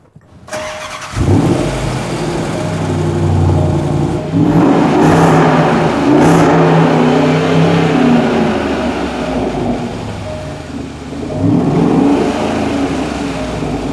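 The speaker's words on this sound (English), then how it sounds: "So dump the resonator, dump the center muffler, put an X-pipe in, listen to this." A Jaguar 5-litre V8 breathing through an X-pipe exhaust with the resonator and centre muffler removed starts up, then revs in several loud rising and falling surges before settling toward idle, close by.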